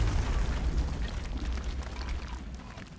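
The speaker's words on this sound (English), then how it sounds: "just grenade blast this one because it's fun" A grenade blast in the XCOM: Enemy Within strategy game, a deep, rumbling explosion with heavy low-end that fills the short stretch and slowly decays, with no voices over it.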